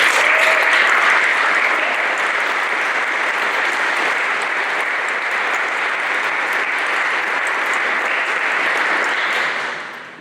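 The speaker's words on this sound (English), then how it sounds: "give one more round of applause for our completers and participants" A large audience claps in sustained applause, loud and steady for several seconds, then tapers off at the end.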